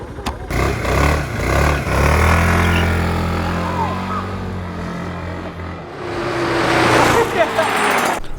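A 400cc scooter revving beside an electric scooter at a standing start, engine droning and rising in pitch as both pull away, under loud voices talking nearby.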